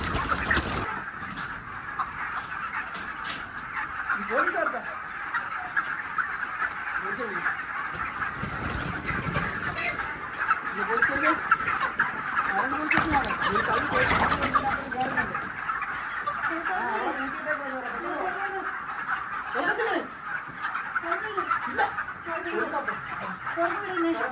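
Chickens cluck and call continuously on a poultry farm, many birds at once in a dense, busy chorus beneath people talking.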